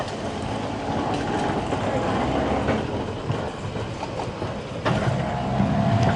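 A tram rumbles into a stop in Porto close by, with rolling wheel noise, clanks and a faint squeal as it slows, loud and continuous.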